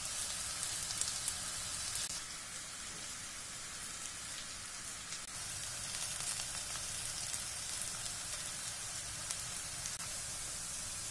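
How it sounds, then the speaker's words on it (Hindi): A medium-sized chopped onion frying in a pan for a potato and cauliflower curry, giving a continuous bright crackling sizzle at steady volume and no voices. "प्याज को गोल्डन फ्राई होने तक भून लेंगे।"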